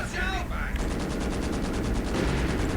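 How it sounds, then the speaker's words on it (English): Machine gun fire from the video game Company of Heroes, with two overlapping machine guns in a wooded crossing, a steady rapid stream of shots lasting throughout, loud and continuous after a brief opening burst. "Anytime they get close, they're just running into two overlapping machine guns."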